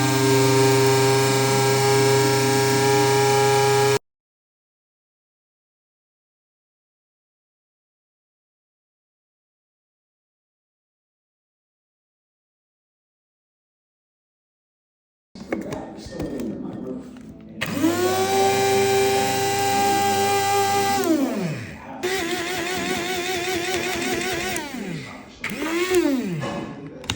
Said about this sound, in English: I'm actually going to add all the leaves to the coffee grinder